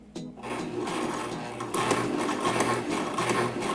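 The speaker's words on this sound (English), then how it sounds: "Lift the presser foot up and then continue sewing." A sewing machine stitches a wig tag with the presser foot lifted and lowered, running as a steady close mechanical whir with a brief start and a slight rise in loudness partway through.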